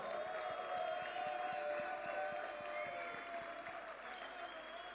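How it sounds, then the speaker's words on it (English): Crowd applause for the padel final champions in Espoo, a dense steady clapping from many hands that holds strong throughout and eases slightly toward the end, with a faint voice mixed beneath. "they deserve a big applause"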